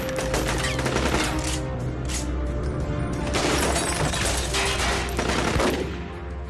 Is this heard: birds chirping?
no